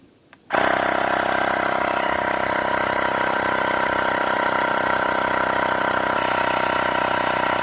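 Xiaomi wireless electric air pump switching on abruptly after a moment of quiet, then running with a loud, steady motor drone close by while inflating, with no talk.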